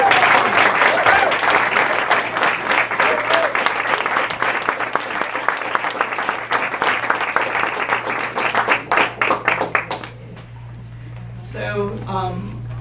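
A bookshop audience applauds to welcome a poet, with steady, dense clapping that lasts about ten seconds, then thins and stops before a voice begins speaking over a low hum.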